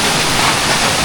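Strong, steady roar of a waterfall rushing at close range, with dense broadband water noise filling the clip and no voices.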